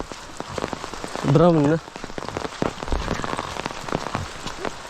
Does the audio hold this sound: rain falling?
yes